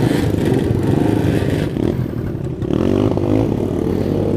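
A KRY 200 motorcycle, its exhaust missing a snapped screw, roars loudly and continuously on a dirt trail, the engine revving with rattling clatter close by.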